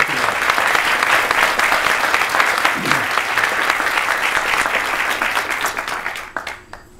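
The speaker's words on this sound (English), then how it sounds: "Let's give them one more round of applause." Audience applause at a 2014 science center groundbreaking ceremony, honoring college trustees: steady, dense clapping from a sizable crowd that holds strong for about six seconds, then thins and fades out at the end.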